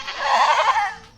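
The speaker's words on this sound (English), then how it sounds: "I don't think I've seen any goats that kind of style before" Tiny goats bleat in one drawn-out, wavering call that rises and then fades, close and fairly clear against a quiet outdoor background.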